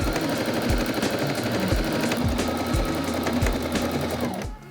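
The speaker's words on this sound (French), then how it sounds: "Allez, je pique mes ourlets" A domestic sewing machine stitches the hems of a summer jumpsuit in a steady, fast rhythmic whir, close and continuous, with regular pulses of the needle mechanism, stopping abruptly at the end.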